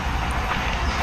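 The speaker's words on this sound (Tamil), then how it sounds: "ட்ரெயின் வந்துடுச்சு" A train arriving in the Indian Bike Driving video game makes a dense, loud rumble that fills the whole second without a break.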